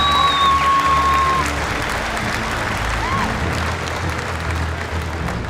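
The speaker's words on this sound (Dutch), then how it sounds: "Applaus!" Audience applause at an award ceremony honoring Friesian horse breeders, a broad sustained clapping crowd with a few whistles at the start, loud and steady.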